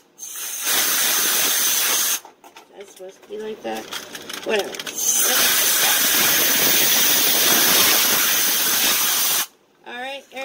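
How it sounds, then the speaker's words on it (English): An air compressor blows a loud, continuous hiss of spraying air, close by. It runs in two long stretches, and a voice talks briefly in the gap between them. "Alright, air compressor's on."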